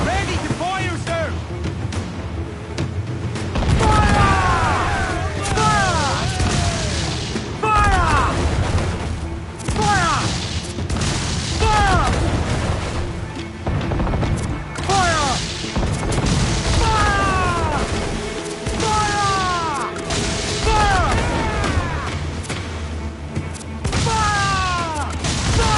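Cannon fire from a pirate ship's broadside in Assassin's Creed Black Flag, repeated booms over ocean surf and creaking timbers, with shouted crew voices and commands throughout.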